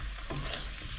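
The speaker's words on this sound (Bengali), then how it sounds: "ভাজা মাছটা দিয়ে ভালো করে এভাবে নেড়ে চেড়ে নিতে হবে" Fried katla fish is stirred through curry masala in a pan, with soft scraping strokes of the spoon over a low, continuous sizzle, close and fairly quiet.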